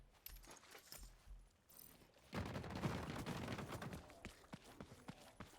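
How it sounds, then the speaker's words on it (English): Teammates' gunfire in a video game rattles in faint, rapid bursts of shots, after a few soft knocks, distant and low in the mix. "That's you guys shooting, I imagine, yeah?"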